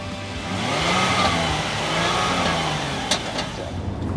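A Kia Cadenza's 3.3-liter direct-injection V6 with six-speed automatic pulls steadily, a smooth, even engine drone rising gently in pitch over a few seconds, heard from close by.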